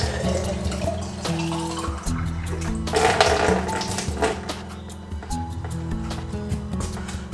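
Water pours into a tall glass jar, a continuous splashing and gurgling stream that swells briefly in the middle, heard close and alone.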